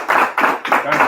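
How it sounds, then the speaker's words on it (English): A few hands clapping at a second lieutenant's commissioning ceremony, about four distinct bursts in a quick, uneven rhythm, close and fairly loud, with no talk over them. "we're definitely going to give you a huge round of applause"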